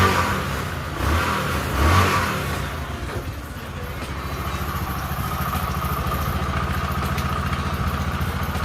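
A motorcycle engine, just started after sitting unused for a year in a village mechanic's shop, revs with the throttle and then settles into a steady, loud, close idle, with no voices.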